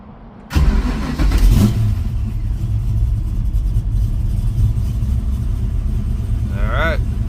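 A car engine cranks and catches after sitting overnight following a long drive toward Florida, then settles into a steady close idle; a short chirping sound rises near the end.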